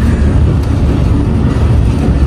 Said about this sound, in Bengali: পরের আরেকটা লাইনে আরও একটা ট্রেন রাওয়ালপিন্ডি অভিমুখে যাত্রা করেছে